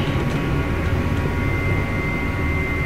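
A helicopter in the Aerosoft Reunion flight simulator gives off a loud, steady low rotor and turbine drone that holds without letup and has no talk over it.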